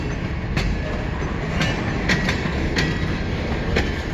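An eastbound CN mixed freight train led by two locomotives rolls out of a departure with a continuous low rumble, while wheels clack over rail joints in sharp, irregular beats, loud and close.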